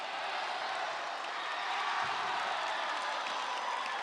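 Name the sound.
crowd cheering in the background at a basketball game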